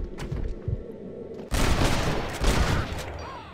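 In the Red Dead Redemption video game, quiet background sounds suddenly give way to a dense volley of loud, overlapping gunshots that keeps going for about two seconds.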